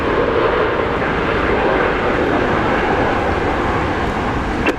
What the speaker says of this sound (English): welcome to Jetstar, a Dreamliner, coming in from Tokyo Narita.